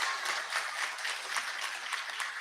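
At an eighth grade graduation ceremony, an audience claps briefly: a short, moderately quiet burst of many hands heard from some distance.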